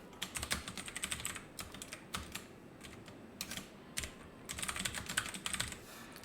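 Steady, fairly quiet clatter of typing on a computer keyboard, with rapid bursts of key presses separated by short pauses, close by and with no talking over it.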